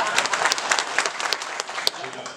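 Applause from an audience at a governor's public address in Kisii, with dense clapping throughout, sharp individual claps standing out, and voices speaking over it.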